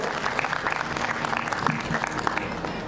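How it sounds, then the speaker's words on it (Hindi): Loud, dense audience applause greeting a poet at a large Hindi poetry gathering in Gogunda, with steady clapping throughout from a close crowd. "मैं चाहूंगा जोरदार तालियां भाई अशोक चारण के सम्मान में।"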